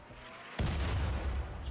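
An artillery shot in the RimWorld game is a sudden heavy boom that swells into a broad, rumbling roar, holds for almost a second, then eases off, loud and with no voices.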